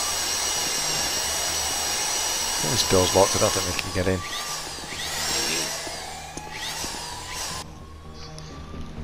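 Heist drill whining steadily during a Grand Theft Auto 5 Online casino heist, its pitch sliding up and down as the bit strains and eases, loud and continuous while someone talks over it.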